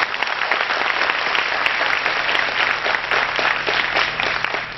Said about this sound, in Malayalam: ഒന്ന് കൈയടിക്കുക എല്ലാവരും.